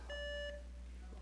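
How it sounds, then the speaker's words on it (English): A game show buzzer gives one steady electronic beep, short and fairly faint, during a buzzer check at a church Jeopardy! game, then fades into low room hum. "All right, buzzers are working."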